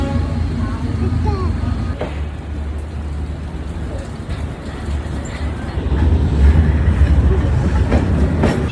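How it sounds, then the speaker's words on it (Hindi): A long train rolls past close by at a level crossing, a steady loud rumble of wheels and wagons that swells toward the end, with faint voices beneath. "इतनी ज़्यादा लंबी ट्रेन गुजरी है ना यहाँ से"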